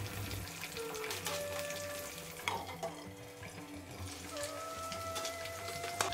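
Cauliflower frying in oil in a pan makes a steady, dense hiss and crackle that runs continuously at moderate level, close by, with faint tonal hum behind and no talking.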